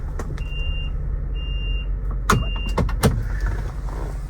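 A 2019 Ford Transit XL wheelchair van's reverse warning beeps three times at an even pace over a steady low engine rumble, with a few clunks nearby.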